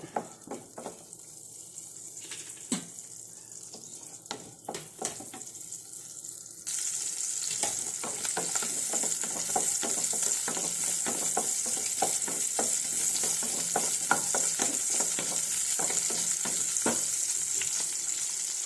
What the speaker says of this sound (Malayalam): ഇച്ചിരി വെളിച്ചെണ്ണ ഒഴിച്ച് അതിനകത്തേക്ക് ഇട്ടൊന്ന് ഫ്രൈ ആക്കി എടുക്കണം